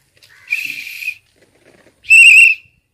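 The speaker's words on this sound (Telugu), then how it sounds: "ఆ విజిల్స్ వేస్తున్నాడు" A person whistles two sharp, shrill bursts outdoors in a village, the first wavering and the second louder and steadier, with a short quiet gap between them and no talking.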